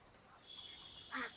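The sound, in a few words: ducks quacking on a duck farm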